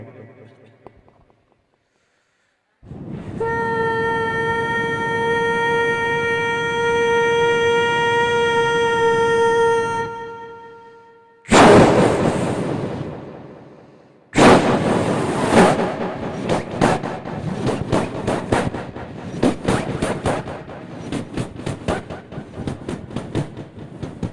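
A voice imitates a train departing Nampally station, starting with a long sustained horn-like tone, then rushing, rhythmic chugging bursts that grow busier.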